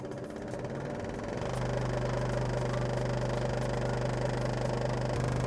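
A Scheppach Deco-XL 125 W scroll saw cuts a pine board at maximum speed, a steady loud mechanical hum and vibration that rises after a quieter start and holds constant, with no talk.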